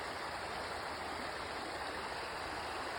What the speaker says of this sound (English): So you got another wide open area with fast moving water.